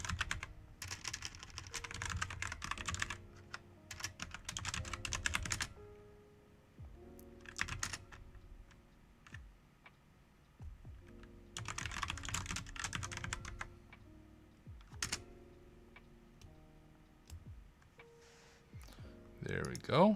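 Rapid bursts of typing on a computer keyboard, clustered clicking keystrokes separated by pauses, close and clear, with quiet talking between bursts.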